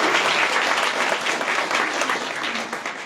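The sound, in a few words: round of applause at school board meeting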